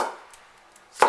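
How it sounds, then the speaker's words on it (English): A cleaver chops through an onion on a cutting board, with a faint soft tap and then one sharp, close knock of the blade striking the board. "Spin the onion around, make the dice cuts."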